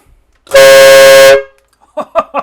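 One loud, sustained blast from a CARFKA 150 dB air horn train horn kit, close and piercing for nearly a second, followed by a brief pause and a few short bursts of someone talking.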